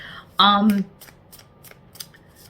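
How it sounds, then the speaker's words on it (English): A deck of oracle cards is shuffled in a series of quick, light riffling snaps, roughly a handful of short bursts spread evenly; a voice speaks briefly just before. "So we're getting your oracle cards."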